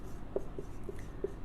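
Writing on a board comes through as a handful of soft, scratchy strokes spaced irregularly over a second and a half, faint against a low background hum.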